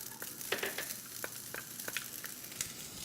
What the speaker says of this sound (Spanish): vamos a distribuir bien el aceite y vamos a dorar los fideitos.